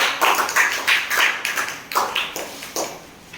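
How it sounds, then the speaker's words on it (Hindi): A group of school students in grades 6 to 8 clap loudly together to open a maths assembly. The applause comes as a steady run of sharp, overlapping hand claps, close and fairly loud, with no talking. "इस गणितीय असेंबली की शुरुआत हम लोग जोरदार तालियों के साथ करें।"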